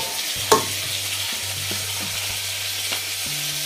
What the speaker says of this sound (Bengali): মাছ ফুটছে এখানে